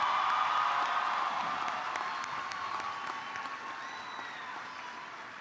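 At a high school graduation ceremony, a crowd applauds the graduating class with broad, sustained clapping and a few whoops, loud at first and slowly fading.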